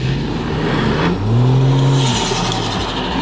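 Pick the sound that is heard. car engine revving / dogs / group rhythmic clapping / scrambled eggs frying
car engine revving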